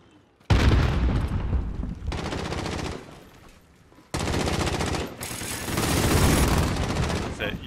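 Loud, sustained machine gun fire in the Modern Warfare video game pours out in long rapid bursts with brief pauses between them, close and dense, with heavy low-end booms mixed in.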